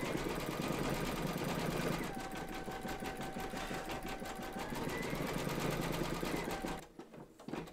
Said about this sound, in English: stitch round number 10, and that's going to quilt the antlers and do the satin stitching around the border